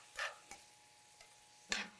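Garlic and crushed red pepper stirred in olive oil in a pan, a few faint scrapes and soft sizzling ticks spaced apart, quiet and close with no talk.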